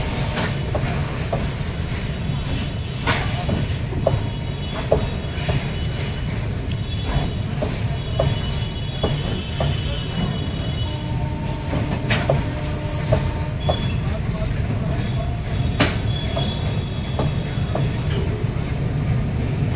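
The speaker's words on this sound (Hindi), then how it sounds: "फ्रेट ट्रेन जा रही है सिटी जंक्शन की तरफ, सीतापुर सिटी जंक्शन की दिशा में" A freight train rolls steadily past on the Sitapur Junction to Sitapur City Junction line during doubling work, its wagons rumbling loud and close for the whole stretch with rhythmic wheel clatter and occasional high wheel squeals, with no talk over it.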